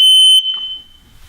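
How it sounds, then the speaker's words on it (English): A shrill, piercing smoke alarm tone sounds loud for a moment as the test button is pushed, then cuts off abruptly, leaving a quiet tail. "To test the smoke detector, find the test button on it and push until the sound goes off."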